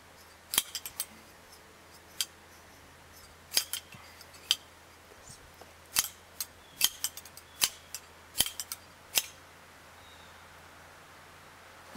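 Sharp metallic clinks of a spoon struck against a bottle during a sabering attempt, a dozen or so scattered taps at uneven intervals, fairly close over a quiet background hum.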